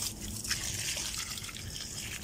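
Water pours steadily into a plant container during scorching summer heat, a continuous close splashing and trickling with faint dripping, no voices.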